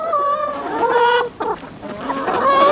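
Farm hens cluck and murmur up close in a busy, overlapping chatter, with short, loud, squawky calls following one another through the whole stretch.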